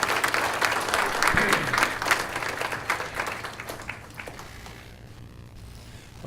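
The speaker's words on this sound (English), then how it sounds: "If we could give them a round of applause for that." Guests at a county behavioral health awards luncheon give a round of applause, a full burst of clapping that gradually thins and fades away toward the end.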